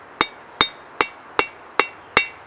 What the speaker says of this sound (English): just need to hit it on two sides because the anvil will hit it on the other side